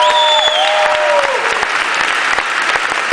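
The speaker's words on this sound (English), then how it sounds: "give her a big round of applause" An audience applauds for Congresswoman Lucille Roybal-Allard at a political event, steady dense clapping from a large crowd that runs the whole time, with a voice's tail fading at the start.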